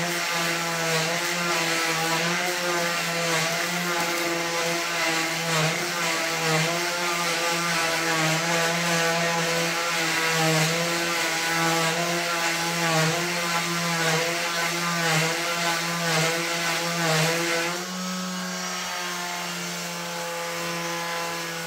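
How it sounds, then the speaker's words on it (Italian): A Parkside PAMS 12 A1 12V cordless delta sander whines steadily against a wooden log, its buzzing motor tone holding for a long stretch before shifting slightly near the end. "proviamo a levigarlo un pochettino"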